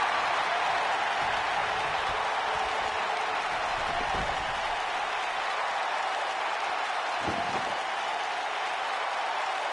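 Game crowd in WWE SmackDown roars with continuous cheering and applause, a dense steady wash that stays loud throughout with a couple of low thuds from in-ring impacts.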